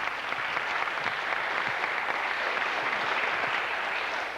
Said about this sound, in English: deserves a round of applause for that too.